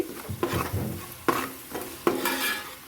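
Ginger garlic paste sizzling in oil for a fish curry, a soft frying hiss broken by a few distinct spoon stirs and scrapes against the pan, close by.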